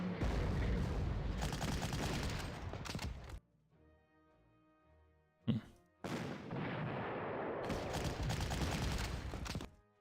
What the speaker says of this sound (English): we're going to use our artillery here to bombard Skopje